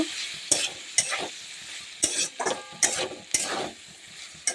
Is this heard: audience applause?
no